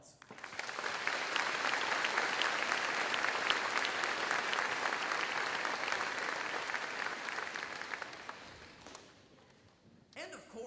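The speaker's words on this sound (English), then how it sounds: "So please join me in giving them a round of applause." Sustained audience applause fills a middle school 8th grade promotion ceremony, a dense steady wash of clapping lasting about nine seconds before fading out.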